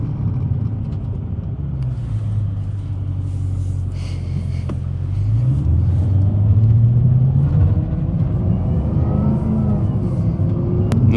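Camaro ZL1 1LE running a 0 to 60 acceleration test in track mode with traction control on, its engine droning low and then rising in pitch as the car pulls hard, heard steadily from inside the cabin.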